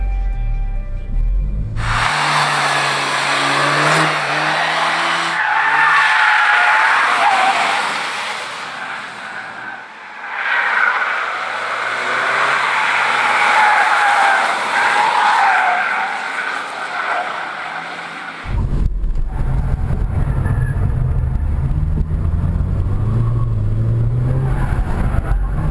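A go-kart racing a Subaru BRZ and a Nissan Juke Nismo, with loud, continuous engine roar and squealing, skidding tires close by, interrupted by a brief cut before the engine noise resumes.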